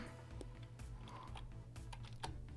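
Rapid clatter of typing on a computer keyboard, with irregular key clicks running continuously over a steady low hum, close and moderately quiet.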